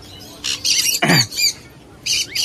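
Caged budgerigars and finches squawk at a Bengali bird market, with two bursts of shrill chatter, then one sharp raucous squawk, then another burst of chatter, all close and loud.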